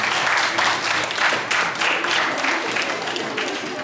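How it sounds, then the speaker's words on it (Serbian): Audience applause fills the hall after a science talk about a golf ball sent into space, a steady dense wash of clapping that rises in waves and then tapers off near the end. "Aplauz Uroša."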